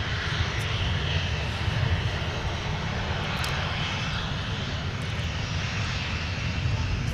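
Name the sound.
Northwest Red Tail airliner taxiing at MSP airport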